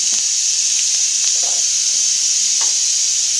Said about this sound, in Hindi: यहाँ मेरा ऑयल गर्म हो गया है, इसमें मैंने 1 चम्मच जीरा डाला है।